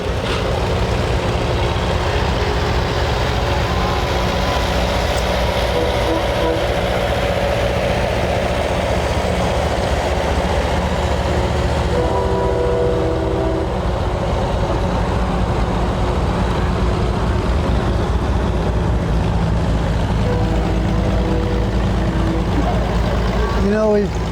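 Antique farm tractors, including 1950s Ford models and two-cylinder machines, rumble past steadily in a parade at a cotton gin festival in Georgia, their engines a continuous low drone with some voices and crowd noise mixed in.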